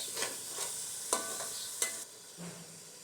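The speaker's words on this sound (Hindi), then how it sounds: "एक से 2 मिनट तक मसाले को पकने दें।" Masala spices frying in a pan for a beef aloo keema, a few sharp stirring clatters over a faint, steady sizzle, close by with no talk.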